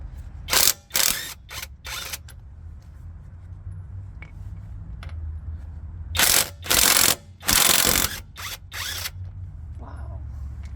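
An Alloyman impact wrench fitted with a lug nut socket fires in loud rattling bursts, several short hammering runs early on and then longer bursts, close up and with no talking.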